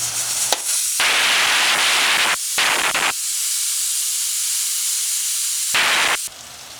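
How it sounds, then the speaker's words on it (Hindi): Tomatoes for chicken curry hissing and sizzling loudly in a hot pan, in several bursts that cut off abruptly between quieter spells; no talking. "इसे अच्छे से मिक्स कर लेंगे हम और टमाटर को बढ़िया पका लेंगे।"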